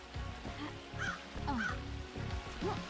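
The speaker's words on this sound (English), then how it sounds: "that bird literally sounds like it's right in my ear" A bird calls from just outside a room in a short series of honking, goose-like cries, faint and somewhat distant, against a low steady background hum.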